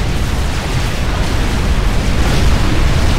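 A loud, rumbling explosion from the real-time strategy game Supreme Commander, during a Cybran mission, sustains as a dense roar with no talk over it.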